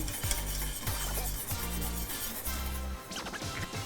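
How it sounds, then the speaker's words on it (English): A whisk beats gelatin into stock rapidly against the sides of a pot, giving repeated rhythmic scraping and clinking strokes, close and fairly loud. "now give that a whisk. Make sure you get all of that gelatin dissolved in there."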